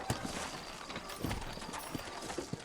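Horse hooves clip-clop on the ground in the Red Dead Redemption video game on PS3, a quick run of crisp, fairly close hoof beats over a soft background bed.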